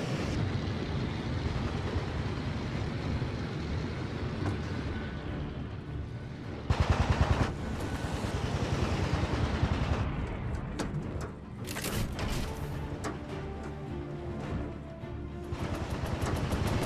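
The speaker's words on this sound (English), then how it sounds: "Time for some serious firepower." In a World War II virtual reality shooter, bursts of rapid gunfire crackle and thump through a busy battle din, with a sharp loud volley midway and more scattered shots after.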